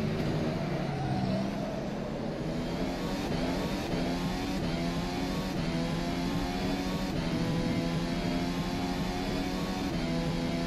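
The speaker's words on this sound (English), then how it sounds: "that McLaren onboard sound got some kind of weird drum being hit every second at a steady RPM level" A McLaren Formula car engine in the rFactor 2 sim-racing game drones at a steady pitch around Spa, with a faint rhythmic thumping pulse every second in the background, close and continuous, no voices.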